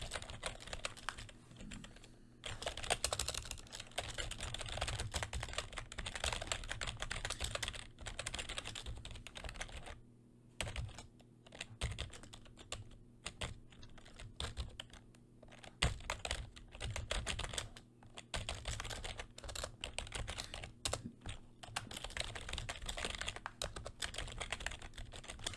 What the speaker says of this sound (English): So let me type this in